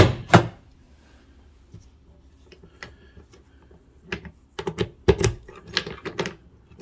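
A key turns in the lock of a swing-out storage case in the bed of a Ford F150 truck, giving scattered sharp clicks and clacks, several close metallic snaps in quick bursts between quiet gaps.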